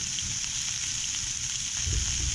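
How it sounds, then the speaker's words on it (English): Onions sizzle and brown in a pan for vegan mac and cheese, a steady close hiss of frying oil with soft crackles and no talking. "while the onions are cooking"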